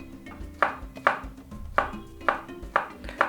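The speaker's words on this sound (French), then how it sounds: "Vous allez couper finement." Knife chopping banana finely on a board: a steady series of about seven sharp, close taps spaced roughly half a second apart, with no talking.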